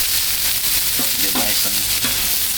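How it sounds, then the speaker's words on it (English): Cherry tomatoes sizzle on a Blackstone griddle in a steady, dense frying hiss, with a few soft scraping touches from a utensil over the constant crackle. "get our cherry tomatoes on here. Let them braise on the griddle for a bit"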